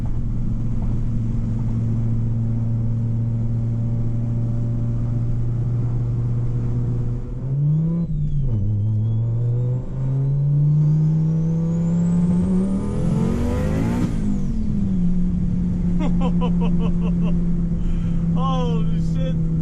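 A wet-road launch in an Audi UrS4 with a 20-valve turbo engine, its front tires spinning as it pulls hard. The engine's rumble rises and falls loudly through the gear changes, close by, with people talking over it.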